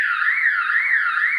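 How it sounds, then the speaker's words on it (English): An electronic alarm sounding continuously, a loud, shrill warbling tone that wavers up and down steadily with nothing else heard. "I'm sorry, we have an alarm."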